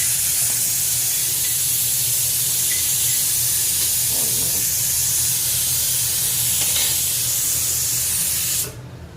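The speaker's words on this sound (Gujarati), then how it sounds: "કુકરમાં સરગવો બાફવા મૂકી દીધું છે." A loud, continuous hiss of steam escaping from a pressure cooker boiling drumsticks, holding steady before it cuts off abruptly near the end.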